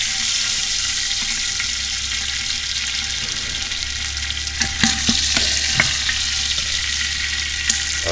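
Beef cheeks frying in an Afghan kazan, a steady close hiss and crackle of hot oil throughout, with a few sharper pops and scraping stirs toward the end, no talking.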